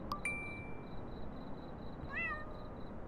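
A cat meows once in a video game, a short rising-and-falling call, preceded by bright chiming dings and a sustained tone, heard clearly and without talk.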